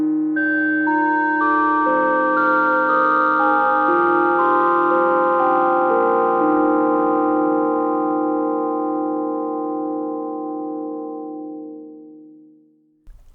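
A synthesized bell tone with bright harmonic partials, struck in a series of overlapping notes that ring out and slowly fade over several seconds.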